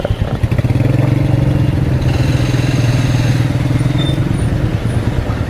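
Royal Enfield Meteor 350 motorcycle engine idling close by, a steady loud low thumping throb that runs without a break through the whole stretch.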